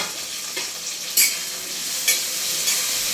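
Cumin seeds sizzling in hot oil for a Marathi cluster bean and potato dish, a continuous close hiss with a few sharp crackling pops.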